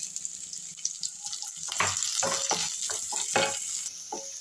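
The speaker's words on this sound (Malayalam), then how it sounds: "ഇനി നമുക്ക് അതിലേക്ക് ചെറുതായി വട്ടത്തിലരിഞ്ഞ ചുവന്നുള്ളി ഇട്ട് കൊടുക്കാം" Thinly sliced shallots sizzle and crackle in hot oil in a pan, cooking for Kerala-style pappadam thoran, with bursts of frying noise and stirring scrapes over a steady background hiss.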